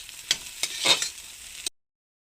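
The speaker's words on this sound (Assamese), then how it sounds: "মোৰ কণী আৰু আলুখিনি মোৰ ভাজা হৈছে" Eggs and potatoes frying in a pan, with a few sharp stirring scrapes and clatters over a light sizzle, close and fairly quiet, stopping abruptly near the end.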